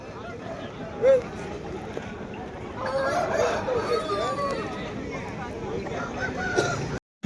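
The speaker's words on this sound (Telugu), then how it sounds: "ఇక్కడ కనిపిస్తున్న డేగపుంజు కూడా మన మంజునాథ్ అన్న గారిదే" A rooster crows briefly amid the bustle of the Sunday poultry market in Pileru, its call rising out of steady crowd noise while someone talks nearby.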